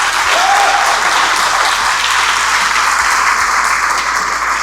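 A crowd applauding at a festive gathering, a loud, dense, sustained clapping that fills the whole stretch without letup.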